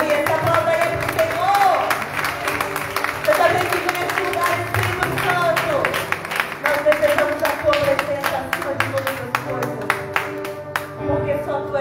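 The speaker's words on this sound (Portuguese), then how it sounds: "Uma salva de palmas." Church congregation applauding during a worship service: steady dense clapping from many hands fills the room, sustained and moderately loud over music and voices.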